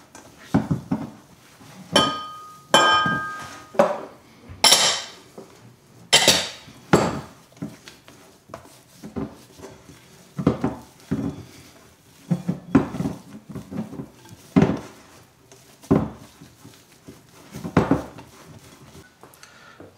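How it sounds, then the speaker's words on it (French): Cranberries being mixed into biscuit dough in a bowl, with a series of sharp clinks and knocks of utensil against the bowl, irregular and close, spread over the whole stretch with no talking. "On peut déjà incorporer donc les cranberries. Comme ça, on va bien les mélanger à la pâte."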